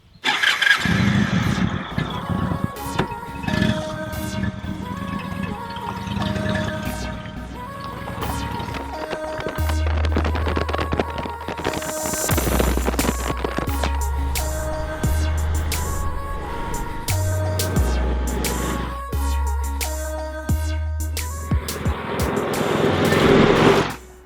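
The 1800cc V-twin engine of an Indian Roadmaster Classic motorcycle starts and runs loud and close, idling with a deep throb and rising in revs throughout.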